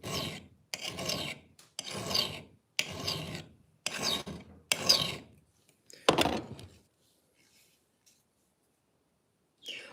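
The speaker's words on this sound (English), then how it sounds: "when you're sharpening an axe like this" Steady rhythmic rasping of a hand file across an axe bevel, six firm back-and-forth strokes in a row, then one last stroke and near silence.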